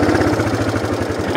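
A vehicle engine idles low and close, pulsing in a steady rapid rhythm for the whole short stretch, with no other sounds over it.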